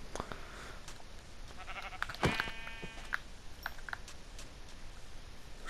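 A sheep in the Minecraft video game bleats once or twice amid light game sound effects, fairly close and clear with no talking.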